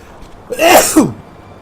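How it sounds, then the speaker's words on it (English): One loud, close human sneeze, a sharp breathy burst with a short voiced tail, in an otherwise quiet room. "Apologies for the sneeze."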